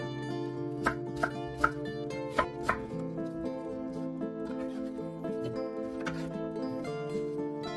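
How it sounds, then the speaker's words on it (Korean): A knife chops half a pear for kimchi on a cutting board, with several sharp, close taps early on, under steady background music. "배반개는 껍질과 씨 부분을 제거하고 믹서기에 갈기 좋게 썰어주세요."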